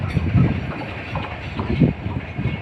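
A train rumbles and clanks nearby at Kamalapur railway station in Dhaka, Bangladesh, a low rolling rattle of rail cars with faint murmuring voices underneath.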